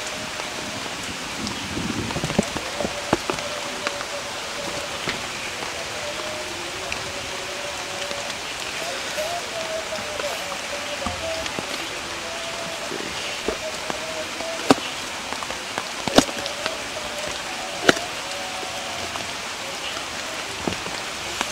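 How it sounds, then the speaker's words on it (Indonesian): Steady heavy rain at a riverside campsite hisses throughout, with scattered sharper drops and taps standing out over the constant downpour. "Dan ini di luar hujan gede banget,"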